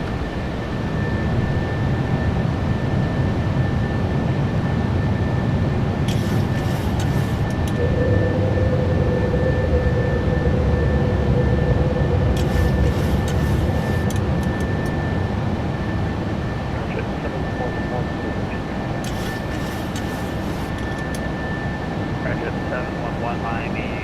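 A PMDG 737-800 airliner taking off in Microsoft Flight Simulator 2024, a steady loud engine roar with a constant high whine throughout, while a voice talks over it.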